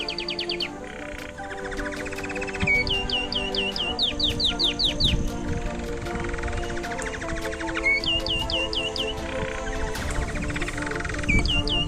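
Birds sing and chirp continuously in a banyan tree on a hilltop, in repeated rapid trills and whistles, layered over a dense outdoor hum.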